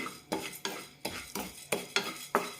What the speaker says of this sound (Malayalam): ഇനി കാൽക്കപ്പ് മട്ടരി കൂടി വറുത്തെടുക്കാം